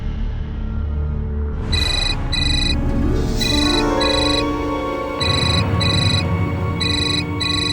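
An incoming call rings on a phone with a loud, repeating electronic ringtone of short pulsed tones in steady groups, heard over a murmur of background sound without speech.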